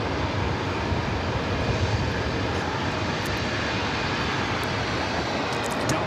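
An Airbus A319 jet, formerly America West, roars steadily at LAX airport, a loud, unbroken broadband engine rush with no letup and no voices.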